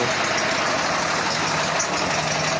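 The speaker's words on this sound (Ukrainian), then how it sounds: "поки мотор прогрівається" A Prykarpatets mini tractor engine idles while warming up in a garage, a loud, close, steady rattling chug with even rhythm and no talking.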